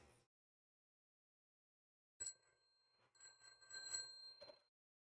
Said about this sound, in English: It does have a bell.